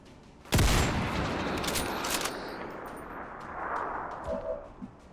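Sniper rifle fire in the XCOM video game: one loud, sharp report rings out, then a long rumbling, echoing tail with faint game effects and small thuds near the end.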